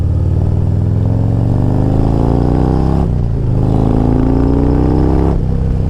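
A Harley-Davidson Road Glide Special fitted with a 30/30 Star Racing cam revs hard and close. Its loud, throaty engine climbs in two rising pulls, with a brief dip between them.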